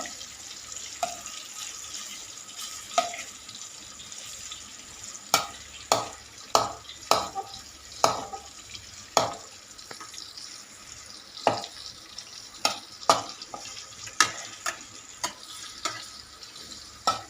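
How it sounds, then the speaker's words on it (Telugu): Bitter gourd pieces frying in oil sizzle steadily and close, broken by a series of sharp clatters and scrapes as the pieces are stirred and turned in the pan, with no talking. "నూనెలో వేగుతున్నాయి"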